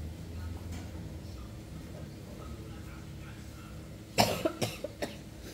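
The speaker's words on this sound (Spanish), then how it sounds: "Ya me está dando tos." A woman coughs several times in a quick series of sharp bursts near the end, close by, after a stretch of quiet room noise.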